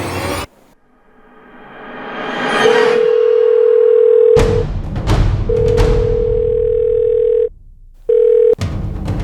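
Outgoing phone call in a Mumbai crime drama: a steady tone sounds in several long, loud pulses broken by short gaps, with a rising swell and a few sharp clicks and bursts of noise between them.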